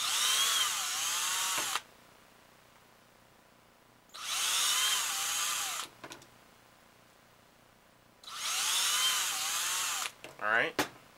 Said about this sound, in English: we'll go ahead and drill all those holes here